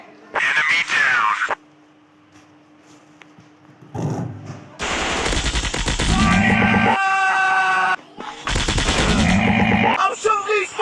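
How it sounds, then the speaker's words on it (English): Rapid automatic rifle fire in the video game Commando Strike comes in loud, dense bursts, separated by quieter gaps, with game sounds and shouting mixed in. "I'm shooting these fools up! Fire!"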